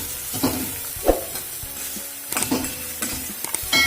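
Chopped onion hits browned ginger and garlic in a pan for vegetable momo filling, crackling and sizzling up close while a utensil stirs and scrapes in several uneven bursts.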